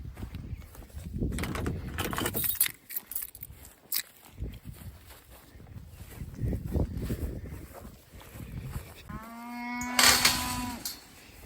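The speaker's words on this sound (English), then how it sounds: "This little speckled park heifer here is crying for a mum" A speckled park heifer calf bellows for its mother, one loud drawn-out moo near the end after quieter rustling and shuffling movement around a farm.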